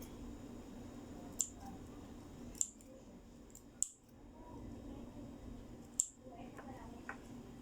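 Sharp scissors snipping notches into the curved edge of a fabric garment mock-up, four or five crisp, isolated clicks spaced a second or more apart over a quiet room hum.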